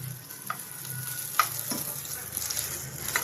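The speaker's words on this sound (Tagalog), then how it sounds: "Hanggang sa maluto yung hotdog ni Bonbon." A hotdog fries in a pan with a steady, close sizzle, dotted by small clicks and taps of stirring and no talk.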